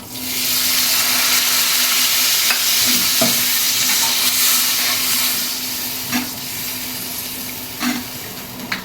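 Loud, continuous sizzling and hissing as water is added to hot oil in a pan, with occasional scraping and stirring clinks over the bubbling.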